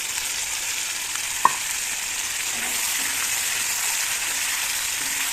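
Amul paneer cubes frying in a pan with a broad, even hiss of sizzling oil, one sharp tap of a utensil early on, no talking.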